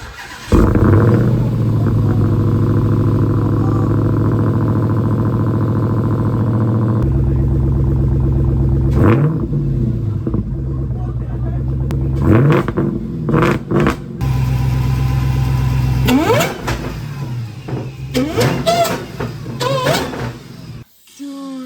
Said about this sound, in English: This is the first ever startup of this car.